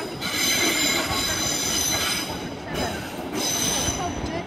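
A Class 350 train at London Euston on the West Coast Main Line squeals loudly and steadily from its wheels, with a rumbling rail roar underneath throughout.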